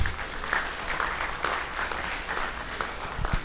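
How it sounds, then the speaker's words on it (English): At a family day gathering, a modest group gives a round of applause after an auction bid closes, with uneven, moderately loud clapping and a few sharper individual claps standing out near the end. "Round of applause, please"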